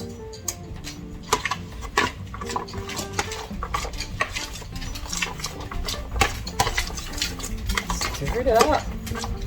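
Ingredients stirred with a couple tablespoons of olive oil in a bowl or pan, continuous scraping and clinking of utensil against the dish, close and fairly loud, with no voices over it.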